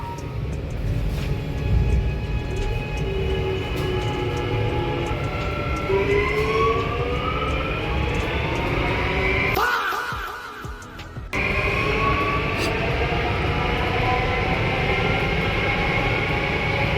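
A new Delhi Metro RS17 train accelerating, its motors whining upward in rising tones over a steady rumble of wheels on track, with a brief dip in the noise midway before the climb resumes.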